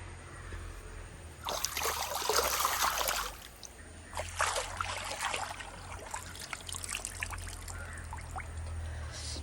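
River water flows and splashes nearby, the rushing growing louder in bursts, then continuing as a steady babble.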